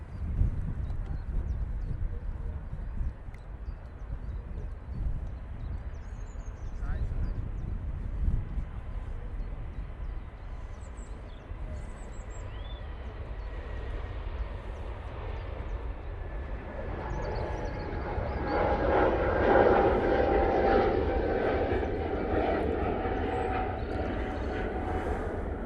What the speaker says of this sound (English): Lufthansa going to Frankfurt. Now on the roll, using their A320neo